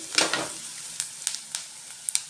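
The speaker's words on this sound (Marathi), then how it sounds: "हिरवी मिरची आणि आपला कोबीज पाच मिनिटभर परतून घ्यायचं" Onion, green chili and cabbage stir-frying in a pan for Gobi Manchurian, a soft steady sizzle broken by several sharp scraping and stirring clicks of a spatula, close by, with no talking.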